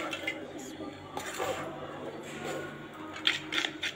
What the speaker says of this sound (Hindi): अब मैं थोड़ा थोड़ा करके इसको इसमें डालूंगी और साथ में मिक्स करती जाऊंगी।